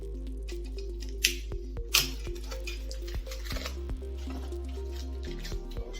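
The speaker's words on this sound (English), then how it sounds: "I'm going to try and cut them open." Scissors snipping open plastic packaging for a ceiling fan's parts, a few sharp cuts and crinkles close by over a steady low hum, with small clicks and rustles scattered between.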